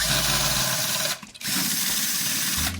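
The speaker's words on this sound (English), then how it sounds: "we're going to take our drill here and we're going to just start loosening each tension rod" A power drill loosening snare drum tension rods whirs steadily, briefly cutting out midway before spinning up again, close and loud with a mechanical hum.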